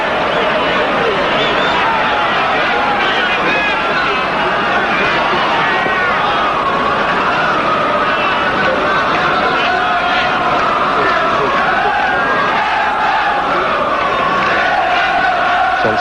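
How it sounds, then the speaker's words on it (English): Stadium crowd at the 1985 European Cup match between Juventus and Liverpool, a steady dense roar of murmuring voices and scattered shouts filling the whole stretch, with no single loud cheer standing out. "Just the occasional natural football reaction, crowd reaction"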